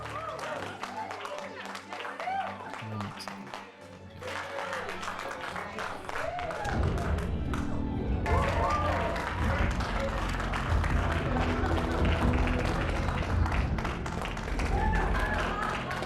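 A canned crowd applause sound effect bursts in during a live stream, dense clapping that swells and carries on for several seconds while people talk over it.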